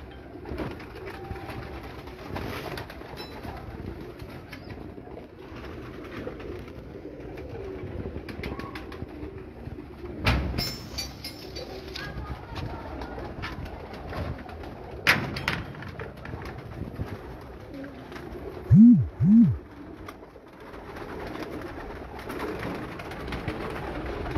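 Pigeons coo on a rooftop in Mianwali, soft low calls repeating over quiet background noise, with a couple of louder close coos near the end and occasional thumps.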